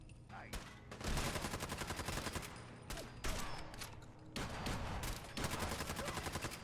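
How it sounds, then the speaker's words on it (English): Rapid gunfire in Fallout 4's Nuka World rings out in dense automatic bursts, loud sharp volleys separated by brief pauses, with faint in-game sound underneath. "Luckily, I can just shoot right through these grates"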